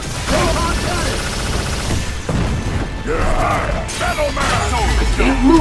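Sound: Iron Man's Proton Cannon attack in Marvel vs Capcom Infinite video game

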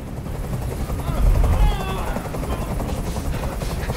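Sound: helicopter flying overhead in a video game

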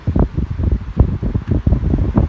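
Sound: old Raks fan running with new propeller

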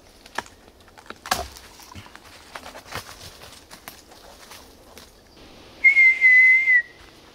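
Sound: imitation of a high-pitched whistle

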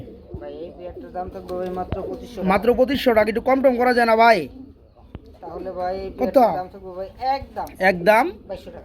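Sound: shirting pigeons cooing, agitated

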